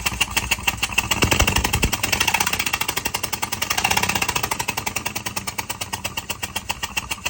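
A Ford 5.4 Triton engine runs with a failure, giving a loud, close, rapid rhythmic knocking and ticking that holds steady throughout, with the idle surging slightly at moments.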